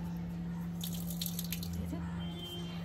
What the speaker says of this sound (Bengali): এই যে মিউনিসিপ্যালিটির জল শুরু হয়ে পড়ছে, এই দিয়ে ধোবো